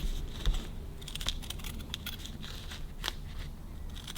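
A decent pair of scissors snips while trimming windlace vinyl and carpet on a 1954 Ford Mercury Monterey Sun Valley, a series of crisp, close cuts and clicks at irregular intervals with no voices.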